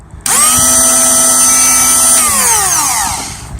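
A Drill Doctor drill bit sharpener's small electric motor whirs up to a steady high-pitched whine, runs evenly for a couple of seconds, then winds down as it switches off.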